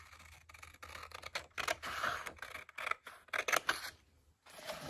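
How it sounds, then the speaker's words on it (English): Scissors snip through a paper picture in a string of quiet, close, uneven cuts, crisp little crunches with short pauses between strokes, heard alone. "Let us carefully cut this out."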